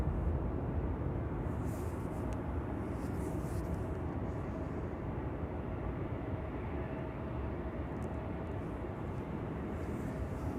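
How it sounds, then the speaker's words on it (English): A Boeing 787 Dreamliner taxis at Amsterdam Schiphol Airport, a steady, distant broadband jet-engine rumble that holds constant and low throughout with no talking. "There's a Dreamliner on the move"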